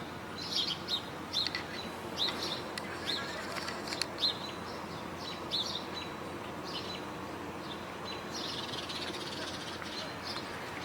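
Robins and house sparrows chirp and sing in short, faint bursts outdoors over steady road noise.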